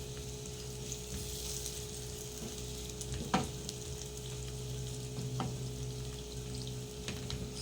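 Beef tapa fries in a pan with a steady, close sizzle, broken by a few sharp crackles and pops, with no voices.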